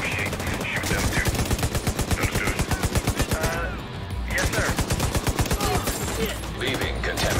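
Rapid automatic gunfire from The Division 2 video game rattles in dense, evenly spaced bursts, loud and close, with a brief pause midway before firing resumes.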